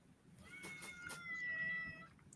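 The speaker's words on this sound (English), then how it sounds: "I hear a kitty." Indoor house cat meowing repeatedly, several clear mid-pitched meows close by in a quiet room, with no talking.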